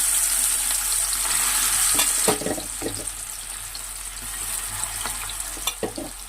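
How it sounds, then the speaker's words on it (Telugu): Cleaned prawns go into hot oil, giving a close, steady frying hiss with a few sharp clicks and stirring knocks scattered throughout, and no talk over it. "ఇప్పుడు ఆయిల్లో వేసేసుకోవాలండి ప్రాన్స్ని"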